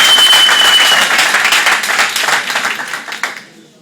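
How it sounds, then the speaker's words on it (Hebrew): Loud applause from a large forum audience, dense steady clapping that fades out over the last second. "תנו לו מחיאות כפיים!"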